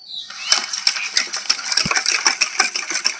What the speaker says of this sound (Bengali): হাফ বাটি তেল, সাদা তেল দিয়ে দিচ্ছি। ভালো করে এখন সব আমি মিশিয়ে নেব।